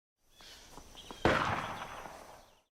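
A single gunshot near a village: a sharp crack followed by a long, fading echo, preceded by a few faint ticks, all fairly quiet.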